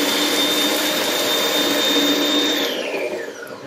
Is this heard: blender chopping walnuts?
yes